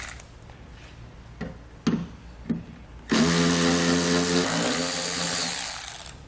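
A power driver with a T30 Torx bit backs out screws from the inside of a pickup tailgate: a few faint clicks and knocks, then a loud, steady whirring motor run that shifts pitch midway and stops.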